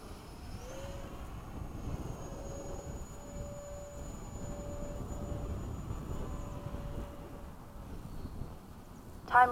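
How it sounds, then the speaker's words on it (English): An 80mm FMS Hawk RC model jet flies fast at a flying field, giving a continuous high whine with a sustained tone over steady broadband roar, ending in a brief loud burst. "This is a really sweet flying plane."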